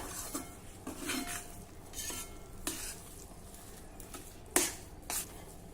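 Wheat flour sheera is stirred in a pan, with repeated scrapes and clinks of a spoon against metal over a low sizzle, and sharper knocks near the end.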